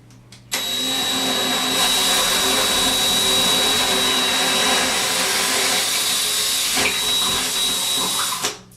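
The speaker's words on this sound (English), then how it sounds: "Depends a lot too on how fast you run your drill" A power drill drilling into drywall whines steadily for several seconds with a high, constant tone and a hissing, grinding roar, then winds down and stops.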